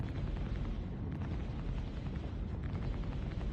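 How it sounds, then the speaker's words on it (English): Fireworks in the Star Citizen video game, a dense, sustained rumble of overlapping booms and crackling bursts that stays loud and even throughout, with no voices. "Fireworks."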